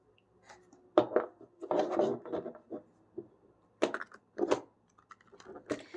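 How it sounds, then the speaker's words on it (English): A deck of tarot cards is shuffled by hand, giving faint, uneven riffles and soft clacks in short clusters, fairly close and quiet, with no voice. "I'm trying to shuffle and it doesn't want to shuffle"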